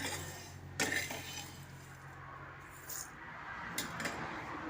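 Dried shrimp tipped into a metal vessel in a home kitchen, giving a few sharp clinks and rattling taps against the metal over a low steady background hum.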